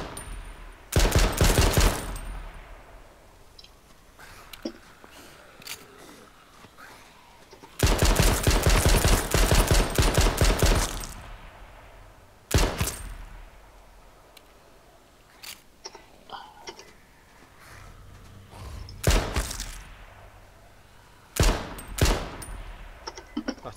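Gunfire in the survival shooter H1Z1, with several loud, sustained bursts of rapid automatic fire separated by sharper single shots and quieter gaps, close and dominant throughout.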